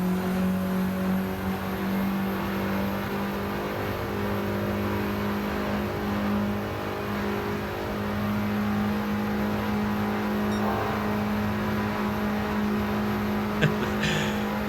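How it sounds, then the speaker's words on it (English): Mini racing cars at full throttle on the Bathurst circuit, a continuous loud, steady engine drone with onboard hum, holding without a break. "Cars at full chat, and Butler is trying to close in"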